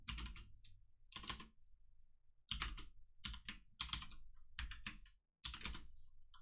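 Fingers type on a computer keyboard in short, quick bursts of clacking keystrokes, close and fairly quiet, separated by brief pauses.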